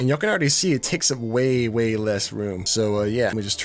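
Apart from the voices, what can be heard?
No everyday noise stands out behind the speech.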